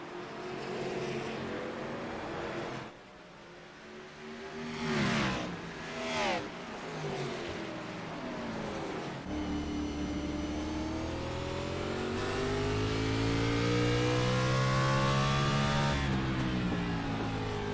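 Race car engines roaring around Martinsville in an Xfinity sim racing game, loud sustained revving with pitch sweeping up and down as cars accelerate and brake, a steady close engine drone building toward the end.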